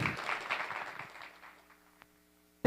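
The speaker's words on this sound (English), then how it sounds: "Big round of applause." Conference audience applauding a speaker on stage at Devcon VI in Bogotá, a faint roomy burst of clapping that fades out over a couple of seconds, with a sharp click at the end.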